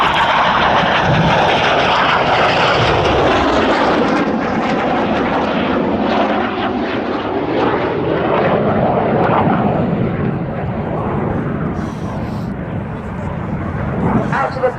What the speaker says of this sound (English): Synchro now coming down the hill for their final manoeuvre of the display from the synchro pair